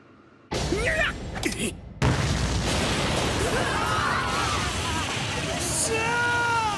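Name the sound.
grenade explosion in an animated scene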